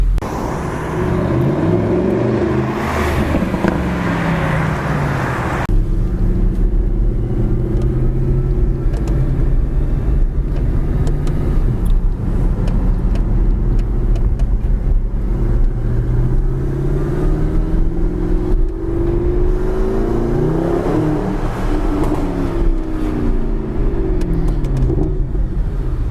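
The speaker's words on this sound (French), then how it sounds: "on a un bruit de paquebot à l'arrêt quand le moteur tourne à l'arrêt" Mercedes SLS AMG engine idling while stationary, a loud deep rumble with a steady throbbing burble and a few gentle swells in pitch, continuous for the whole stretch without speech.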